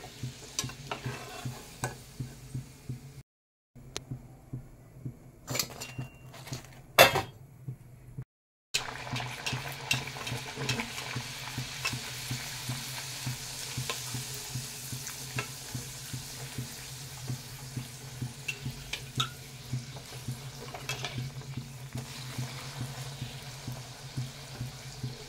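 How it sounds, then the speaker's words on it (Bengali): Kachoris deep-fry in hot oil, a steady close sizzle and bubbling with occasional stirring scrapes, briefly cutting out partway through, and no talking. "তো বন্ধুরা দেখো, কচুরিগুলোকেও ভেজে নিচ্ছি।"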